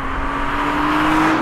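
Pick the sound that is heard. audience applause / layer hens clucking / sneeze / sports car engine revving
sports car engine revving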